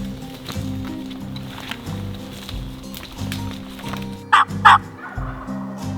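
A wild turkey gobbles during a spring hunt, two loud, rattling gobble bursts a few seconds apart amid rustling leaves, low hum and quiet outdoor background.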